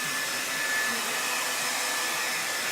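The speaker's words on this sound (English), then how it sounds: "So what I have here, just to make sure it's dry before it goes in the grease, a Revlon motherfucking blow dryer." A Revlon blow dryer runs steadily at close range, drying a turkey before deep frying, a continuous broadband whoosh with no pauses and no talk.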